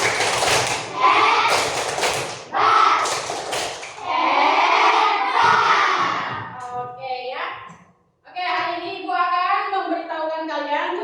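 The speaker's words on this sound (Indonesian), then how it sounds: "yuk sebelum itu kita tepuk hebat dulu ya. 1, 2, 3, tepuk hebat." Fourth-grade schoolchildren in a classroom chant the 'tepuk hebat' clapping routine together, with sharp hand claps at the start and loud rhythmic group voices that rise and fall in a sing-song pattern, briefly pausing before the chant resumes.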